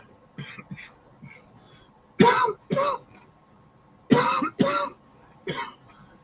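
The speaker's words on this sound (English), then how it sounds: "Sorry about the coughing." Several sharp coughs and throat clears come in short bursts, a pair near the middle and another pair later, close and loud, with quieter murmuring between.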